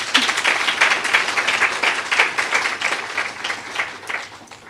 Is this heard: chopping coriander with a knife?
no